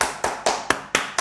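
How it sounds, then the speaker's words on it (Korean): Congregation at a Korean online worship service claps together in slow, deliberate unison, five or six sharp loud hand claps evenly spaced about a quarter second apart, close and clear with no voices. "하나님께 영광의 박수 올려드리겠습니다."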